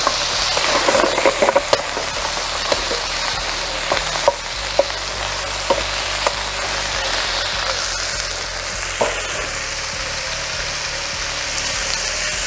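Squid frying in a pan over a flaming rocket stove, giving a steady loud sizzle with sharp crackles and pops scattered throughout, plus a low burner rumble underneath.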